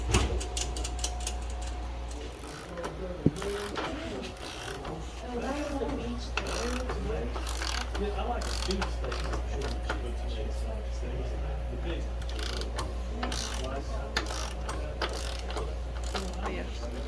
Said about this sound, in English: as we spin the wheel, all you hear is the chain